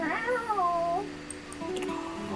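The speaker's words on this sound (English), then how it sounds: "A small creature that looks rather like a black cat rubs up against Mateo's leg, meowing for his attention." A small black cat in a video game gives a drawn-out, wavering meow, close and clear, followed by a softer trailing mew, with no talk.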